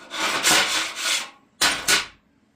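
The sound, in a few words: scraper removing weld spatter from steel welding table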